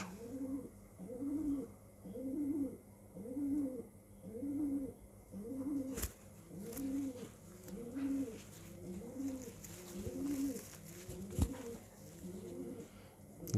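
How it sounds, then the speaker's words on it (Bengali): A long-distance racing pigeon gives steady, evenly spaced throaty coos at close range, a dozen or so in a regular rhythm with a couple of sharp clicks or taps mixed in. "একটা লং ডিস্টেন্সের কবুতর"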